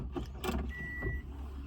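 A second-hand car's engine idles at a used-vehicle dealer in Lakhimpur, Assam. It makes a faint, low, steady hum, joined by a short high whirring note midway, with no talk.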